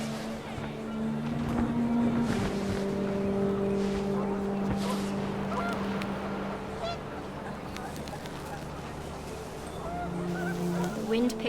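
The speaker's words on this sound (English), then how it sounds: "panicked geese appeared and quickly went" A flock of panicked geese honks in a windy outdoor scene of the video game What Remains of Edith Finch, the calls layered and overlapping over a steady low hum and wind, moderately loud throughout.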